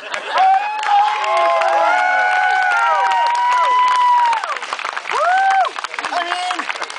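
A crowd watching a fire-juggling street act claps and cheers, with scattered whoops and high shouts rising over applause in bursts, close and lively.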